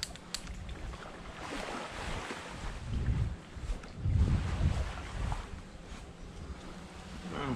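Strong wind buffets the microphone on a deserted island beach, with gusty low rumbling surges rising and falling throughout, close and loud, with no talking.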